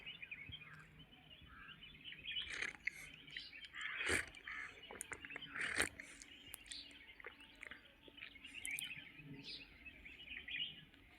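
Sparrows chirp and tweet repeatedly in the background, a busy chorus of short calls at moderate distance with no talking.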